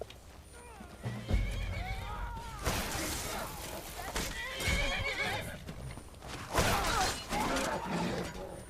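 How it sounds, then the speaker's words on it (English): Several horse whinnies in the video game Skyrim ring out, interspersed with hoof clatter and thuds, rising and falling in bursts over a quiet background. "Oh, it's another horse."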